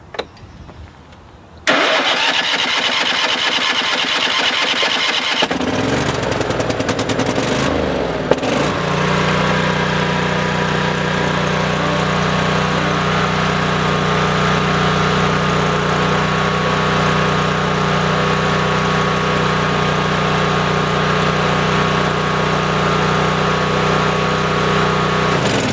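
After a couple of seconds of quiet, a Cub Cadet zero-turn mower engine cranks, catches and settles into a loud, steady run that continues close by to the end.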